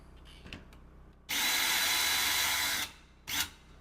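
A cordless power drill drives door knob screws snug. One sustained whirring burst lasts about a second and a half, followed by a short second blip, close by and with no talking.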